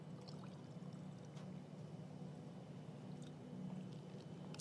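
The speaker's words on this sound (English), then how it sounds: "this glass is going to be Fanta full soon" Fanta soda poured into a glass, a steady low liquid stream with a faint fizzy hiss running for several seconds, fairly quiet and without talk.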